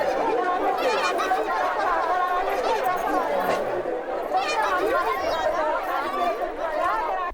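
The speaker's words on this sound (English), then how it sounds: "I found this one sound called African Market with Kids and it sounds like this." Ambience of a busy African market with children: dense, continuous crowd chatter with kids' high voices and occasional laughter, and a dog barking here and there, steady and fairly close throughout.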